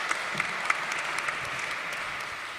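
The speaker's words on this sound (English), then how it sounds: "Give me an applause for this." An audience at a stakeholder panel session applauds steadily, a broad, even roar of many hands clapping with a few sharper individual claps standing out, and no talking over it.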